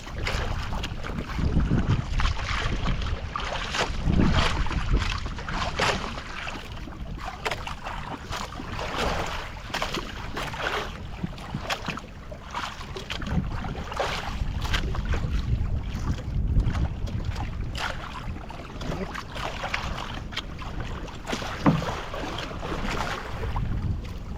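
A small outrigger boat (bangka) moves across open water, with steady wind buffeting the microphone and splashing, rushing noise throughout.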